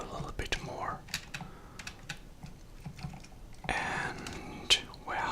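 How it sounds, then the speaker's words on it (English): Mechanical computer keyboard typed on up close, scattered crisp clicks and clacks in irregular bursts, with a brief rustle partway through. "I hope you'll hear my mechanical keyboard a little bit more."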